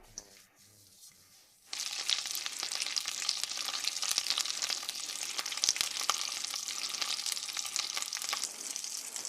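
Grunt fish frying with onion in beef tallow in a pan. After a quiet start, a loud, close, continuous crackling sizzle bursts in and holds steady with sharp pops throughout.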